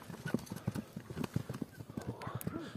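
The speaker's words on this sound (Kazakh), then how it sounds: "Бир чаба бериңчи атты." A Kara-Bayir horse trots, its hooves clip-clopping in a quick, even rhythm at a moderate distance while a person talks over the hoofbeats.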